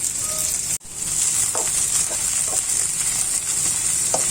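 Chicken adobo with ginger, onion and bay leaf sizzles steadily in a hot pan while a utensil scrapes and stirs, with a few soft knocks against the pan.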